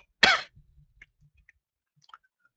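A single sharp cough close to the microphone, short and forceful, followed by faint small clicks and breaths in otherwise quiet surroundings.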